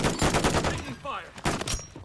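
Bursts of rapid automatic gunfire and single shots in a Call of Duty video game, loud and close, with crackling reports in quick succession and a brief gap before more firing.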